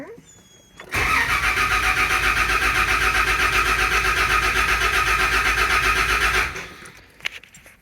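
A Land Cruiser engine cranks and catches after a fuel injector replacement, then runs steadily at a loud, even idle for about five and a half seconds before cutting off, leaving a few faint clicks.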